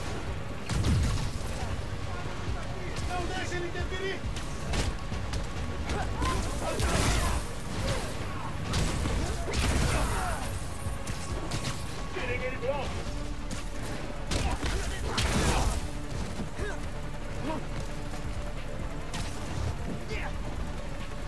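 Bursts of rapid gunfire and booming blasts in the busy soundscape of the video game Marvel's Spider-Man: Miles Morales, in a snowstorm, with a voice speaking briefly over the chaos.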